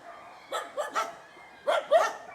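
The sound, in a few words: dogs barking at animal shelter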